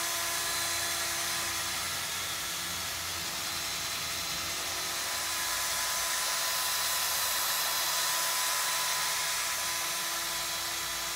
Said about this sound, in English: put your sandpaper on this, and just go up and down